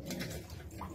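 Pigeons give a short, soft coo, faint and somewhat distant, lasting only a moment with no talking.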